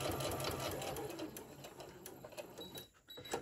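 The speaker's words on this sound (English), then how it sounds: "I'm going to sew straight across." A sewing machine stitches straight across a pencil case with elastic, whirring in a steady close rapid hum before briefly slowing and then resuming.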